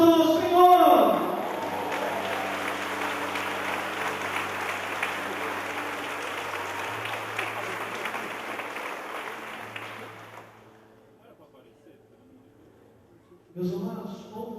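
Church congregation applauding, a dense wash of many hands clapping that starts loud and fades out over about ten seconds, followed by near silence and then a voice.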